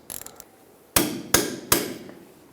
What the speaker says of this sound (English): take a larger socket, put it over the banjo bolt, give it a tap with a hammer